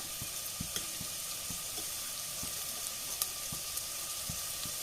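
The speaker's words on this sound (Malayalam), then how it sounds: "ഒരു സവാള എടുത്തിട്ടുണ്ട് ചെറുതായിട്ട് സ്ലൈസായിട്ട് കട്ട് ചെയ്തതാണ് കുറച്ച് കറിവേപ്പിലയും കൂടി ഇട്ട് കൊടുക്കുക" Sliced onion and curry leaves sizzle in hot frying oil, a soft even crackle with regular light taps of a spoon stirring the pan, no speech.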